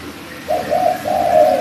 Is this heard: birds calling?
yes